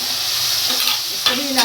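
Finely chopped garlic hits a hot pan for a baingan matar bharta, giving a steady close sizzle with a few stirring scrapes, no voices over it.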